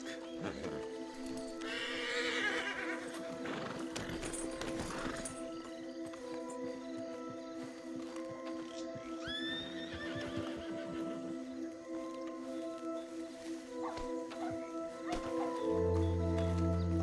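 Several horses in a video game whinny and neigh in bursts over a steady ambient hum, with occasional hoof clops and a low rumble near the end.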